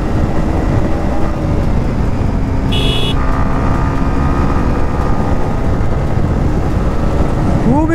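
A modified Honda CBR 150 motorcycle accelerates on a road, its engine a loud, continuous roar amid steady traffic noise, with a brief horn-like tone partway through.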